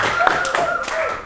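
A few separate claps ring out in a classroom as a lesson continues, with voices murmuring underneath the sparse, uneven hand claps.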